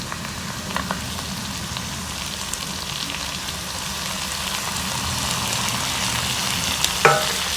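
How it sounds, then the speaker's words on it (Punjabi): Chopped tomatoes hit golden-brown onions frying in a pan, giving a steady, even sizzle that runs throughout at moderate loudness, with a brief clatter near the end and no talking. "ਹੁਣ ਆਪਾਂ ਟਮਾਟਰ ਪਾ ਦਾਂਗੇ ਕੱਟੇ ਹੋਏ"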